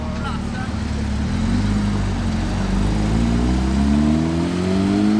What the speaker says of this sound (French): 992 GT3 Touring